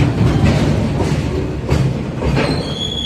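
A train passes at Erode Junction with loud rolling wheel rumble, rhythmic clatter over the rails and a brief high metallic squeal near the end.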